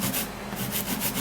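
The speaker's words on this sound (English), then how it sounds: "I'm going to be grating it" A fresh tomato is rubbed back and forth over a grater for a face mask, giving a quick, close, rhythmic wet scraping in several short strokes.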